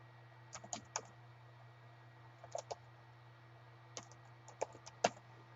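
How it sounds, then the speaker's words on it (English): Typing on a computer keyboard: soft, sparse clusters of key clicks in short bursts with pauses between, faint and close against a low steady hum, without talk. "I'm gonna type it in and see if I can get it to come up."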